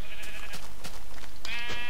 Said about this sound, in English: I found two sheep